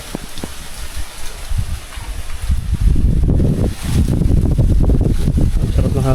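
Wind gusts across a dry, waterless creek bed in Cagayan, buffeting the microphone in low, rumbling bursts that build and stay strong through the second half.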